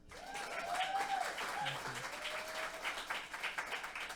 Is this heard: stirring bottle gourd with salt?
no